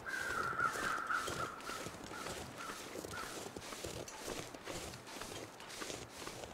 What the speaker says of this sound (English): Keep an eye on the sky when you're playing the long dark, because those crows will often tell you a couple of different things.